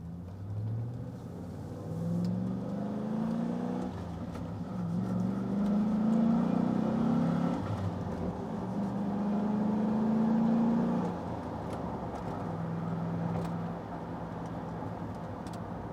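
A steady engine drone from inside a moving 2005 Chevrolet SSR pickup, rising and settling through gear changes, with road rumble beneath and no talking.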